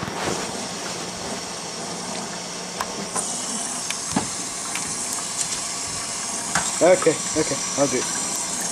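Water runs steadily from a tap to fill a bath for a dog at home, a continuous gushing hiss with scattered clicks and clatter, while people talk briefly over it.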